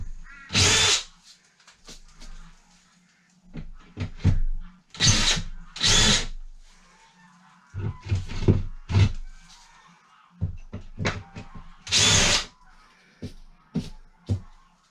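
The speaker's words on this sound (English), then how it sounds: "Switch your drill off." A power drill whirs in repeated bursts, some long and some short, loud and close, with clattering handling noises between runs.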